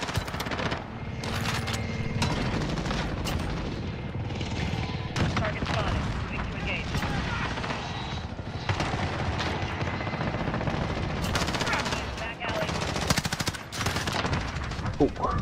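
Video game gunfire rattles in dense automatic bursts and single shots, loud and nearly continuous, with a player's voice talking over the shooting.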